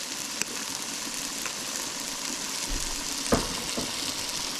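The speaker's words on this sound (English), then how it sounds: "Just gonna add a little bit more oil." Oil sizzling in a pan while cooking shrimp and potato curry, a steady moderate frying hiss with a few sharp clicks and knocks, no voices.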